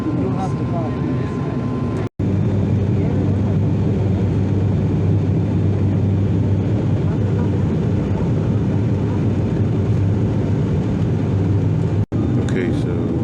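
A steady, loud engine drone fills the cabin of a passenger airplane in flight from Nassau to Grand Bahama, an even low roar that holds throughout with only two brief dropouts.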